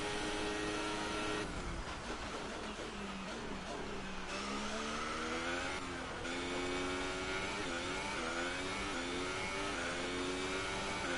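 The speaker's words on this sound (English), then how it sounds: "The rev limiter." A Ferrari Formula 1 car in the F1 2018 racing game at the Abu Dhabi Grand Prix, its engine a loud, continuous high-revving whine with repeated pitch sweeps as it bounces off the rev limiter.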